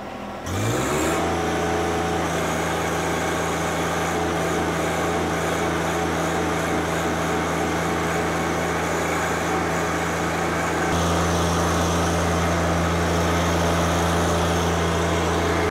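A compact tractor, Kubota BX or Deere 1025R, starts its engine and settles into a steady, fairly loud running hum with a tonal drone, shifting to a slightly heavier, lower pitch near the end during loader lifting, with no talk.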